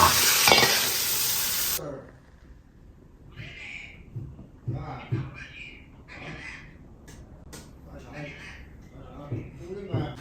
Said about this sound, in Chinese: 清炒黄瓜